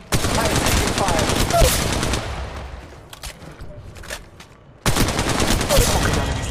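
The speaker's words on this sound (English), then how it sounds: "I am taking fire." Rapid automatic gunfire in the mobile shooter Apex Legends Mobile, loud sustained bursts that cut out briefly, leaving quieter game sounds and a voice, before another burst erupts.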